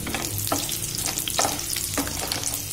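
Red chillies and garlic frying in hot oil for a dal tadka, a close, steady sizzle with stirring scrapes and soft pops running alone throughout.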